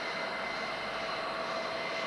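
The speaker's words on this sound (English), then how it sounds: "the drafting fan that gives the locomotive its distinctive sound when running, a whine more akin to a jet aircraft than a steam engine" Condensing steam locomotive's drafting fan gives a steady, continuous high whine close to a jet aircraft's tone, holding level throughout with no exhaust beat.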